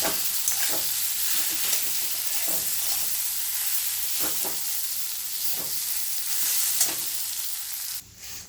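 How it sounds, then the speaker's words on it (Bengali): Mashed boiled potato fries in a wok with a steady, continuous sizzle and occasional stirring scrapes, close and even throughout, ending with a brief clatter. "এবার আমি সেই গুঁড়ো করা আলুটাকে কড়াইতে দিয়ে দেবো। এটা আমি ভালো পুরোপুরি কড়াইতে ফ্রাই করব।"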